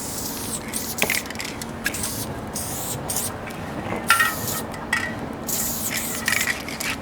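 A spray paint can spraying thick red graffiti paint, repeated close hissing bursts of varying length separated by short pauses, with faint scraping in between and no talking.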